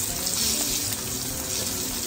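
Constant, close sizzling and crackling of herring frying skin-side in a hot pan, loud and steady with no voices.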